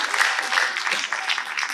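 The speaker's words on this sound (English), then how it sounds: "find your family and give them a round of applause" A brief burst of audience applause at a Poetry Out Loud recitation event, honoring the students' families, with steady, moderately loud clapping and faint crowd voices mixed in.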